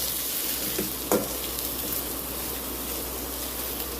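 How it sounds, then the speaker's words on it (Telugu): Onions, green chilies and curry leaves fry in a pan with a constant close hiss of sizzling oil, broken by a single brief knock of stirring. "2 మీడియం సైజ్ ఉల్లిగడ్డలు, ఒక 3 పచ్చిమిరకాయలు, కొద్దిగా కరివేపాకు వేసుకొని దాన్ని దూరగా వేయించుకోవాలి"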